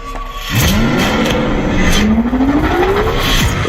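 Race car engine in the Screamer racing video game, a loud sustained roar with a rising and falling pitch as the car accelerates and shifts gears, with brief tire squeal, and no voices.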